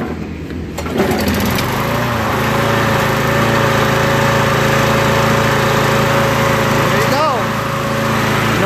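A Murray 6 HP walk-behind push lawn mower with a Briggs engine starts up and runs at high RPM, a loud steady droning whine with slight surging, alone without talk.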